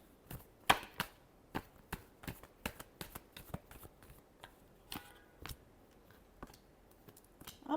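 Tarot cards are shuffled close up in a quiet room, giving a string of sharp, irregular snaps and riffles with brief pauses between them.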